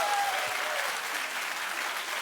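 A television talk-show studio audience applauds steadily and evenly throughout, a broad wash of clapping with no voices standing out above it.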